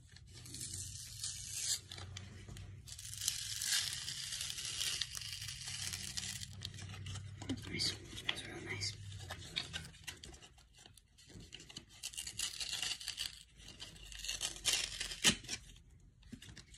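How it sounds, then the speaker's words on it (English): Foil wrapping of a Fusion Strike trading card pack being torn and crinkled open by hand, a steady papery rustle with sharper rips in bursts over a low background hum. "we're going to be opening a Fusion Strike pack"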